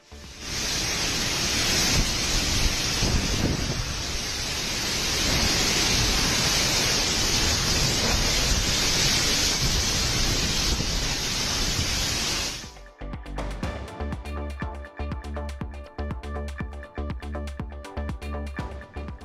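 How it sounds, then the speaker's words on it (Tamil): Heavy cyclone rain and strong gusting wind near Machilipatnam, Andhra Pradesh, as Cyclone Montha made landfall, a loud steady roar filling the first stretch before cutting to a rougher, more broken stretch of storm noise. "ஆந்திராவின் மசூலிப்பட்டினம் அருகே மோந்தா புயல் கரையை கடந்த போது கொட்டி தீர்த்த கனமழை."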